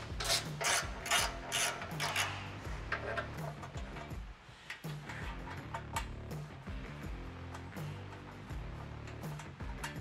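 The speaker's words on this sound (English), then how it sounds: "we're gonna remove these 4 bolts, but you'll save the bolt and you can toss the nylon washer" Metallic clicks, rasps and ratcheting as four bolts with nylon washers are unscrewed from a cover plate during a RIGd Supply SideHack install, a close, irregular rhythm of tool turns with brief pauses.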